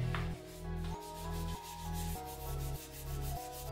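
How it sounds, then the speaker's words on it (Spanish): A toothbrush scrubs a bathroom sink coated in baking soda, giving a steady close rubbing and scraping in repeated strokes, with a faint hum underneath. "Ahorita aquí vamos a utilizar este que es un cepillo dental"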